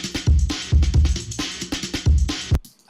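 Distorted, enveloped kick drums drive a homemade breakbeat, thumping heavily in a repeating pattern with snappy hits and crunchy, saturated texture, loud and close with no talking.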